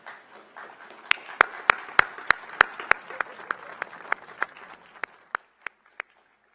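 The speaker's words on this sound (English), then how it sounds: "Your family, your friends, and your fellow students join me in applauding your success." Commencement audience at a university ceremony applauding honors graduates, sparse clapping that builds into distinct sharp claps and then thins out to a few final hand claps, fairly distant in a large hall.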